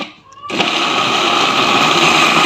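Electric chopper whirring on as it mixes keema with nutmeg and mace for gola kabab, starting abruptly after a quiet moment and then running at a steady, loud, high-pitched buzz.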